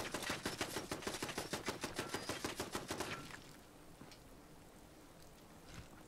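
A turret in Fallout 4 fires a rapid, evenly spaced automatic burst of about twenty shots for three seconds, then stops, leaving a faint ambient hiss with a lone soft thud afterward.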